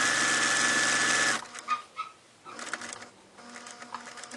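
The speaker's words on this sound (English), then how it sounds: "So I'm going to carefully sew my binding with a careful 1/4 inch seam." A sewing machine stitches quilt binding with a 1/4 inch seam on a star tree skirt, running loud and steady for over a second, then stopping into quieter, scattered handling and fabric sounds.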